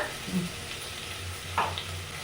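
Sliced onions and a spoonful of ginger-garlic paste sizzle steadily in hot oil in a pan, with a couple of soft spoon scrapes as the mixture is stirred.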